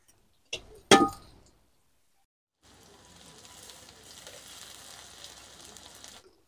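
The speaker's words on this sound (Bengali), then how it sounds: "এবারে পেঁয়াজের সাথে এই চিংড়ি মাছটাকেও আমি কষিয়ে নেব।" Shrimp frying with onions in a pan: a couple of sharp metallic clinks from a utensil come first, then after a short silence a soft, steady sizzle carries on to the end.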